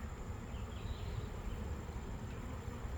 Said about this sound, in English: there's all these bees flying around this little 2-frame mating nuc